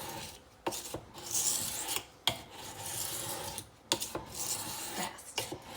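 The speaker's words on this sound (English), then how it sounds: "I've sharpened machetes on this stone as well too" A knife blade is drawn across a sharpening stone in quick rasping strokes, each scrape a gritty rub broken by short pauses and clicks, close and fairly quiet, with no talking.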